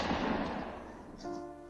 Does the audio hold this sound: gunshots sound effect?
yes